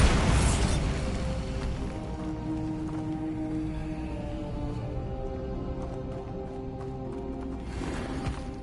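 A Bombarda blasting spell goes off in Hogwarts Legacy, opening with a sharp booming explosion that rumbles and fades into a lingering low roar, with crackling debris and ambient game sound afterward.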